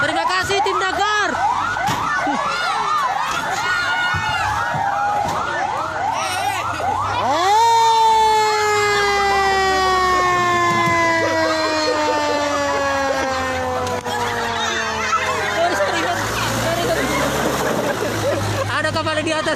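A fire engine siren wails through repeated rising and falling sweeps, then settles into a loud, long descending tone near the listener, with traffic rumble and people talking underneath.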